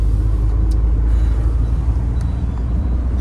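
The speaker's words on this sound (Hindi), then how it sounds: "अब गाड़ी जो है पूरी चल रही है" A Honda Amaze car on the move, heard from inside the cabin: a loud, steady low rumble of engine and road noise, with a couple of faint ticks.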